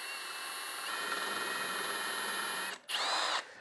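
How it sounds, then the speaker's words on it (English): A power drill whines steadily at high speed while drilling into wood, briefly dropping out near the end before spinning up again for a short final burst. "what I'm going to do is just drill that into there"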